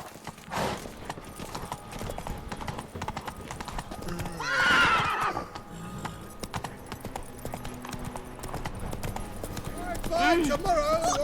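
Roach, a horse in The Witcher 3, trots with steady clip-clop hoofbeats throughout and gives two loud whinnies near the start and end, with in-game voices talking over the hooves.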